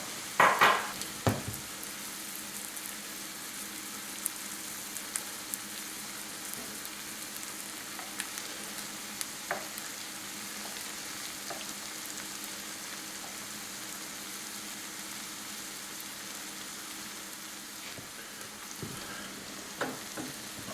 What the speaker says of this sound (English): We're going to add some of our egg so that we can let that cook and then incorporate it into the ramen.